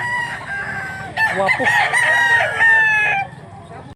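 A young stag rooster in rural Mantalungon, Cebu crows once, a loud, close, drawn-out call, while someone speaks briefly over the quiet background.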